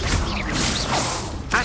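Confringo fire spell cast in Hogwarts Legacy, a loud whooshing blast with a rumbling low burst and a sharp crackling impact near the end, all within under two seconds.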